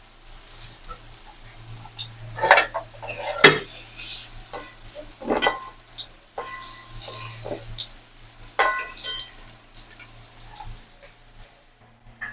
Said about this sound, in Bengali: এবার আমি তেলটা বাদ দিয়ে আলু পটলটা তুলে নেবো, তেলটা বাদ দিয়ে।